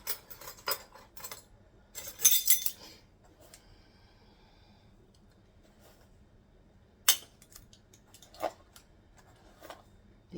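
A measuring spoon clinks against a bowl as salt is added to muffin mix, heard as sparse, light metallic taps and clinks separated by quiet stretches.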